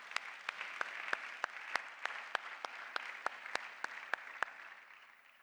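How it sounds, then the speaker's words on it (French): A church congregation claps at a worship service, with a steady round of applause running the whole time and sharp individual claps standing out above it. It fades toward the end, and no one speaks. "acclamons pour notre Seigneur Jésus"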